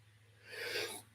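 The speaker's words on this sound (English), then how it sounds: "I'm going to sneeze." A single sneeze bursts out of a quiet room, a breathy rasp that swells and fades in about half a second, close and fairly loud.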